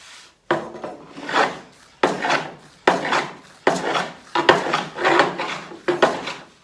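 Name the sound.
planing and trimming down an oak console surface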